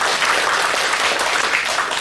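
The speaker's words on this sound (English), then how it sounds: "let's all give a big applause to the three panelists" Loud, dense applause from a seated audience at a public discussion on disinformation and elections, a continuous close wash of many hands clapping with no break.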